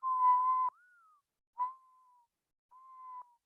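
A person whistles inward to imitate a mourning dove, giving three soft, mellow hooting notes: a longer first note with a rising slur, then two shorter, fading ones separated by pauses.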